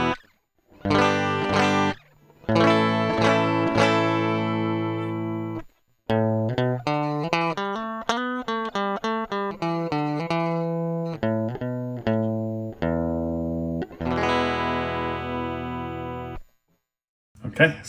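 Electric guitar played through its dry, unprocessed signal before a Dot On Shaft E20PH phaser pedal is switched on: loud, close strummed chords and melodic single-note runs with short pauses between phrases.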